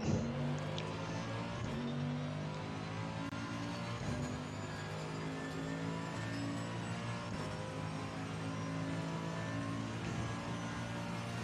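Mercedes GT4 race car engine in Assetto Corsa Competizione at Spa-Francorchamps, a sustained droning whine with gear changes and shifting revs, steady and moderately loud, with no talk.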